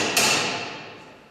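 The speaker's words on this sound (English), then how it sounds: "then all you need to do is hammer in the wedge onto one side of the clamp" Single sharp metallic hammer strike on a wedge driven into a steel beam clamp, ringing briefly and decaying, with no talk.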